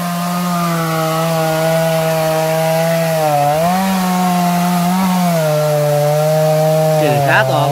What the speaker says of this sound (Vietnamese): Tiếp tục cưa cái cây này luôn các bạn.